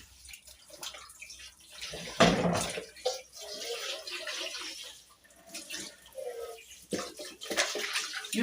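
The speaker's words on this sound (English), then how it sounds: "There comes the hot water." Hot water pours and splashes into a basin to soak raw chicken in a home kitchen, a loud gush near the start easing into steady running and trickling, with a faint voice underneath.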